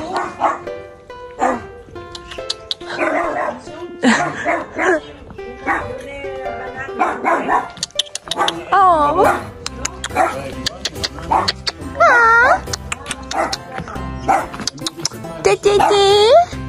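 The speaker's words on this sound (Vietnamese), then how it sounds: "Ồ, có chó." Dog barking on a street in France, repeated yips and barks with whimpering mixed among people talking nearby, fairly close and loud.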